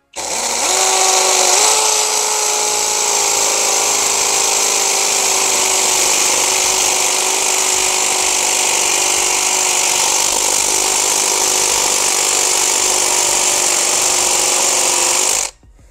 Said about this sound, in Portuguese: Já está na opção do martelete, no giro certo. Eu vou furar bem aqui